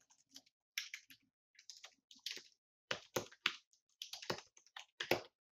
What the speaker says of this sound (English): I can actually type in what I want this to say